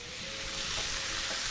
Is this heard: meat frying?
yes